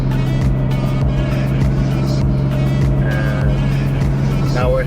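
A BMW M4 with a rebuilt head and upgraded crank hub runs steadily at close range as the car pulls away, a constant engine drone under road noise.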